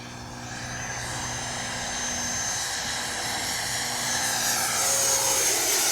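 Freewing 90mm Eurofighter Typhoon RC jet flying a low gear pass with its landing gear down, a steady, loud turbine whine and rushing roar that builds slightly as it passes, with no talk.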